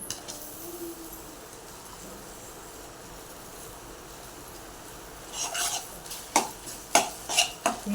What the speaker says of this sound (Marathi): परतून घेऊया आवडीनुसार छान मिक्स करून घेऊया